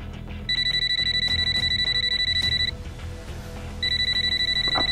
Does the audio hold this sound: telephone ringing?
yes